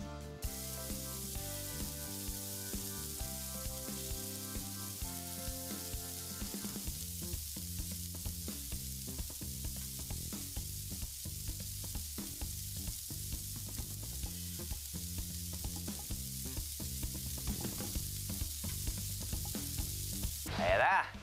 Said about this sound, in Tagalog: Ngayon po ay magluluto tayo ng best-selling na inihaw